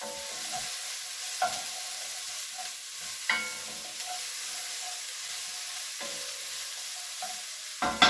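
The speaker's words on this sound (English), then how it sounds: "we're doing the deglazing using the juices from the onions and the celery" Onions and celery sizzle and hiss in a hot pan during deglazing, a continuous frying crackle broken by several sharp clinks and scrapes of stirring.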